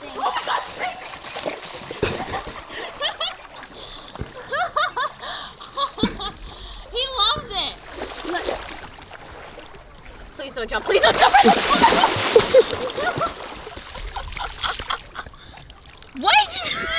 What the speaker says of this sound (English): Oh, he's swimming, he's swimming, he's swimming!